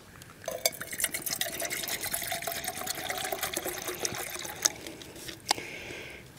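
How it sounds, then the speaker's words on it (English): Water is poured into a pot for making coffee outdoors at a pond, a soft close trickle and splash that runs steadily for several seconds. "And we'll get the water going."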